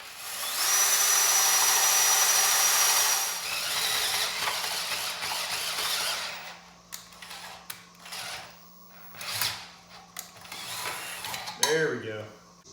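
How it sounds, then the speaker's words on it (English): A long half-inch drill bit grinds loudly through the baffles of an Arctic Cat 400 ATV muffler, a steady harsh whir for several seconds, then intermittent bursts, rattles and metallic clatter as drilling continues. "we got a massive long drill bit here. It's a 1/2 inch. And we're gonna go and drill out this muffler"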